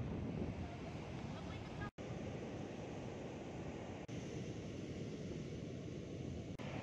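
Wind buffets the microphone over a steady rush of surf at Bajul Mati beach in Malang, a broad, constant roar with a couple of brief dropouts.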